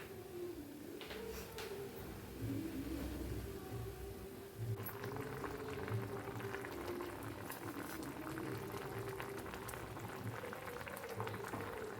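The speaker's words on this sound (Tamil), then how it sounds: "குழம்பு கொதிக்க ஆரம்பிச்சிருச்சு." A pot of egg curry bubbles and simmers steadily, with soft continuous gurgling and popping close by, faint and unbroken with no talking.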